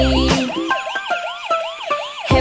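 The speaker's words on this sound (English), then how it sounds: "Then the ambulance is rushing, it's coming for me." An ambulance siren in a children's nursery song wails in a fast repeating up-and-down pattern, loud and close, mixed with musical backing and no talking.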